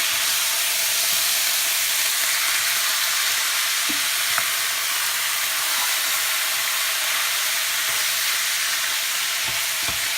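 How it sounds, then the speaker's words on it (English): Minced meat fries in a pan with a loud, dense, continuous hiss and crackle, close and steady, with a few soft clicks of a utensil now and then. "let's fry the minced meat for a couple of minutes"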